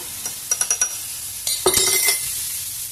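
Potatoes frying in a pan for a Telugu-style potato fry, heard as a soft sizzle broken by a quick run of sharp utensil clinks, then a louder burst of stirring and scraping against the pan; no one speaks.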